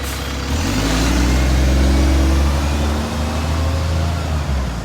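A bus waiting at a stand in Lincoln Central bus station gives off a loud, close, steady low engine rumble that holds throughout.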